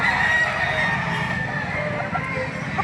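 A rooster crows at a livestock auction market in Lipa City, Batangas, one drawn-out call standing out clearly over a busy background of other birds and crowd noise.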